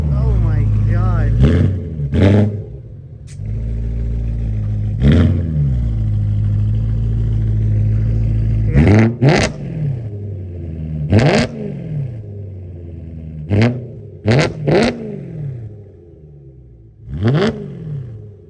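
A BMW E92 M3 V8 revs hard through a Bomiz valved exhaust, very loud and close, with repeated sharp rises and falls over a deep idle rumble. Excited voices talk between the revs.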